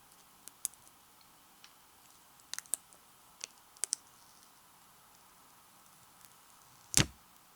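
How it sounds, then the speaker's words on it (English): Clicking clacks of PBT keycaps being pressed onto a custom Neo75cu gasket-mount keyboard, a scattered series of light taps ending in one louder snap, close and quiet with no talking. "At this point, you want to put in your caps. So we're using PBT Olivia."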